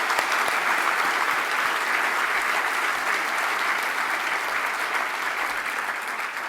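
Steady, sustained audience applause at a Hartford Foundation for Public Giving charity celebration, a dense wash of clapping from a large crowd that holds at an even loudness throughout with no pauses.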